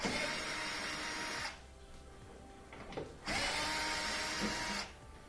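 A power drill whines loudly in two sustained bursts, pulling 3/4-inch screws from a Whirlpool washer's top, each lasting over a second, separated by a quieter pause with faint clicks and handling noise.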